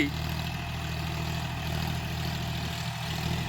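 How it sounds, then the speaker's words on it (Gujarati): A John Deere 5045D 45 HP tractor engine runs at a steady idle, giving a continuous low rumble that stays even and moderately close the whole time, with no talk over it. "ટ્રેક્ટરની વાત કરીએ તો ટ્રેક્ટર 45 HP છે, જોન ડીયર કંપનીનું 5045D,"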